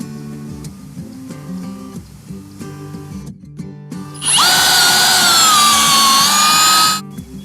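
A power drill bores into a maple tree for an injection treatment, a loud high whine starting after some quieter handling noises and running steadily for about three seconds before stopping.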